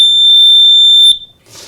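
A small life-saving smoke detector sounds its alarm: one loud, piercing, steady electronic tone held close for about a second, then cut off abruptly, with faint room noise after.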